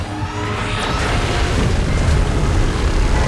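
A monster fires an energy beam in a film sound effect: a dense, roaring rush that swells and holds at full loudness, rumbling and blasting with no pauses, heard alone.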